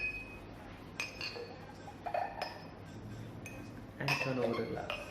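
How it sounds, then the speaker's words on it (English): A glass is turned over onto a beer bottle, and glass meets glass in several light clinks and taps. A louder rattle near the end sits close and clear under a quiet background. "Just put the glass over the bottle"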